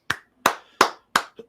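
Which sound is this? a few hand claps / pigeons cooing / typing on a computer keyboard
a few hand claps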